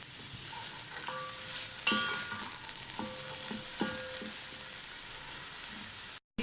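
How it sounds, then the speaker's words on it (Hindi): Garlic and spring onions sauté in a pan for chicken macaroni soup, giving a steady close sizzle with faint stirring scrapes and a few thin tonal ringing notes, with no voices. "हम इसके अंदर हरी प्याज यानी कि स्प्रिंग अनियन ऐड कर देंगे और इसको भी 1 मिनट तक हम सौते कर लेंगे।"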